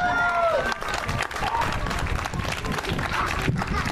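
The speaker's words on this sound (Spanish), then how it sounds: "Y que se oiga fuerte ese aplauso." Guests at a quinceañera party applaud the birthday girl, a dense burst of clapping in a festive hall, with some crowd noise and faint voices mixed in.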